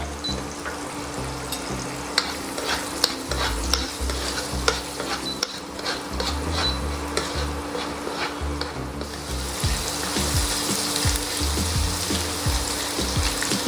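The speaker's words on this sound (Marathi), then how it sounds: "त्यावर थोडासा हिंग घालणार आहे व त्यात आता हे जे लसणीचे व आल्याचे तुकडे केले होते ते घालूया" Garlic and ginger pieces sizzle in hot oil with a pinch of asafoetida while cooking a Goan mackerel pickle, a dense continuous crackle with frequent stirring scrapes and clinks, close and fairly loud, no talking.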